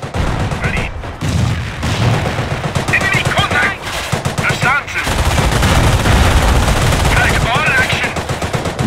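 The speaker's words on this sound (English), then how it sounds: "Notice the Panzer's slow rate of fire." A Panzer tank firing in a World War II strategy video game, heavy cannon blasts booming loudly with slow spacing amid continuous battle gunfire and explosions.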